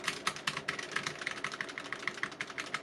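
Steady typing on a Logitech G915 mechanical keyboard with tactile switches: a quick, even run of crisp, close key clicks for about three seconds, with no voices.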